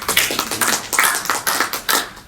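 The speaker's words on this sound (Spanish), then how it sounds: "un aplauso para dar la bienvenida al doctor Alejandro Dioses" Audience applause welcoming Dr. Alejandro Dioses at a psycholinguistics colloquium at UNMSM, a close, bright burst of clapping with uneven pulses that runs steadily through the moment.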